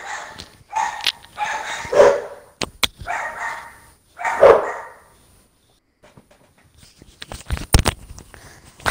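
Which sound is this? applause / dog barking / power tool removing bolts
dog barking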